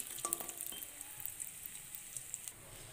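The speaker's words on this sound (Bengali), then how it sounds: "তেলটা গরম হয়ে গেছে, বড়িগুলোকে আমরা ভেজে নিই।" Lentil dumplings (bori) fry in hot oil in a wok in a Bengali kitchen, a faint soft sizzle with a few light scrapes early on, quiet and steady with no talk.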